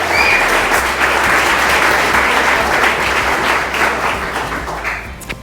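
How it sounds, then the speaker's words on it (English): A loud round of applause from the crowd at the Duck Mill opening honours the city councilors. It is dense and sustained, with a low hum underneath, and fades slightly at the end. "let's please give them a round of applause"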